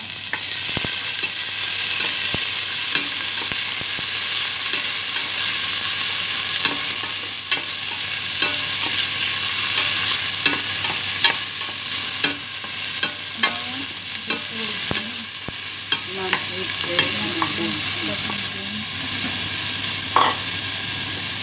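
Onions sautéing in a pan for a lamb and green bean dish, a steady broadband sizzle with frequent scraping spoon strokes against the pan, growing busier toward the end, close and without speech.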